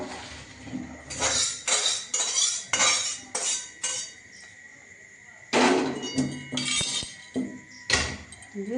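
Metal pots and utensils clatter and clink in a kitchen as boiled chowmein noodles are drained, a run of sharp close bursts, a pause, then another series of clanks.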